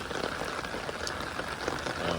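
A summer monsoon rain shower falls steadily on a farm field of chili pepper plants among weeds, a dense, continuous patter of drops with no voices.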